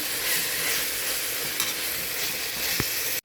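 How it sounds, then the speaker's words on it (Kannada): Ginger garlic paste fries with mutton for mutton sukka, a loud continuous hiss and crackle close up, with a faint stir or two, cutting off abruptly at the end. "ಇದು ಕೂಡ ಸ್ವಲ್ಪ ಹೊತ್ತು ಫ್ರೈ ಆಗಲಿ."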